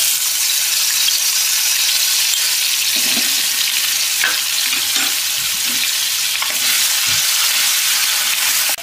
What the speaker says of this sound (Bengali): রসুন বাটাটা দেবো।